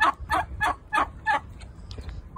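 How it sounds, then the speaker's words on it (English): A roosting turkey gobbles in a quick run of five or six rattling bursts, fairly close, then trails off into faint quieter calls. "Roosting turkey."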